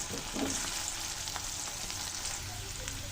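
Potatoes frying in a pan with chopped tomato for Kashmiri dhoka, a steady close sizzle with faint scraping stirs and no voices.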